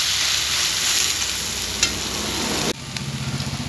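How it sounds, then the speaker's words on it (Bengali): New onions fry in a pan with a steady, close sizzle and crackle, a brief stir or scrape, then a sudden drop to softer spitting bubbles for the final second. "খুব সুন্দর ফ্রাই হচ্ছে"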